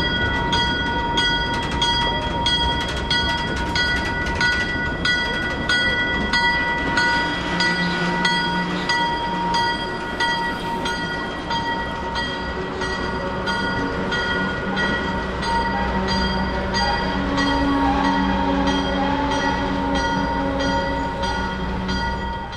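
An ALCO-hauled freight train rumbles steadily past at close range on street track, wheels grinding and metal squealing, with sustained screeching tones over a low, continuous roar.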